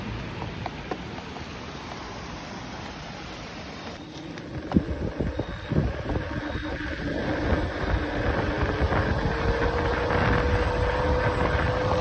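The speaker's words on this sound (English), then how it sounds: "There's like this high-pitched whine all the time when you're riding." A Begode T3 electric unicycle gives a steady high-pitched whine while being ridden, running continuously under heavy wind buffeting and road rumble.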